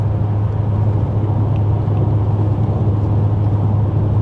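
A BMW M5 with its V10 engine cruising at 70 mph in 7th gear: a steady, low engine drone with broad road and tyre rumble, constant and close throughout with no talking.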